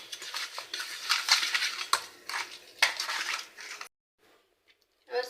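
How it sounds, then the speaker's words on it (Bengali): Pieces of rui fish are mixed by hand in a bowl, making several bursts of wet scraping and clinking against the bowl that stop abruptly before a short quiet gap. "মাছগুলো ভালো করে মেখে নেব"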